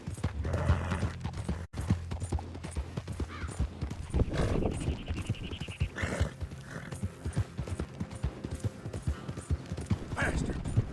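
Horse hooves clip-clop steadily at a trot in the Red Dead Redemption 2 video game, near and fairly loud, with a voice speaking over the rhythmic beats and an occasional whinny.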